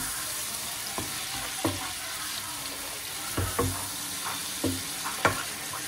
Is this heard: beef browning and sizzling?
yes